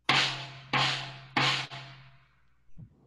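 A basic tom-tom drum, played alone and loud: three resonant booming strikes with sustained low ring, each hit decaying before the next, then a softer final tap.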